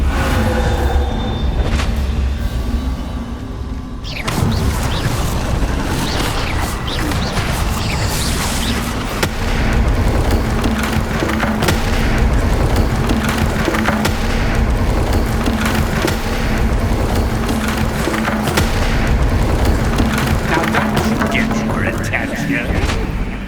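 Booming Bombarda spell blasts in Hogwarts Legacy inside a spooky shop, loud repeated explosions with crashing, splintering wood and debris over a low rumble, while voices speak throughout.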